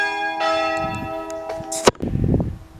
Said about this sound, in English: bell's going